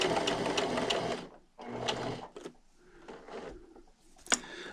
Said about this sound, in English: I'm going to stop with my needle down, raise my presser foot and spin. And just keep sewing.